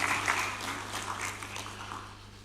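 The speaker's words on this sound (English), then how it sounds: "Let's give a warm applause again." Warm applause from the audience at a Kenyan presidential national address, a moderate steady rush of clapping over a low electrical hum, with no talking.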